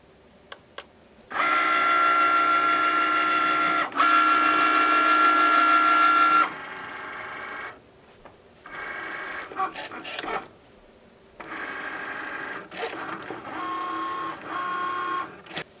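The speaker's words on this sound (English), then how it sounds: "we'll put our material into the machine and press C to cut" A Cricut Maker hums and whirs through several bursts and pauses while its fine point blade cuts faux leather, the carriage motor steady and close, with quieter shuffling stretches between passes.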